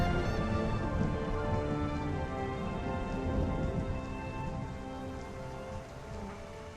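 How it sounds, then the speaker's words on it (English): A rainstorm with rumbling thunder in an Age of Empires III: The Asian Dynasties cinematic; dense, steady rain pours close by while low thunder rolls underneath, slowly easing toward the end. "Wherever he leads us, it appears we will brave a storm before our arrival."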